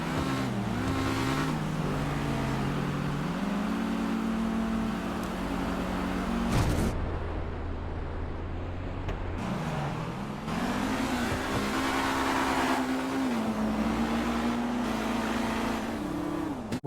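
Two cars drag racing in GTA 5, a GT Classic and an Eclipse, their engines revving hard through rising and falling gear shifts with a brief lull in the middle, loud and close, with no talking.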